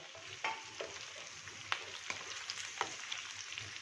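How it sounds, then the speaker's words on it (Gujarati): Onions sautéing with whole spices in a pan for a Punjabi restaurant-style gravy: a steady close sizzle broken by several sharp scrapes and clacks as they are stirred, with no talk. "ડુંગળીને પણ આપણે સોતળી લઈએ."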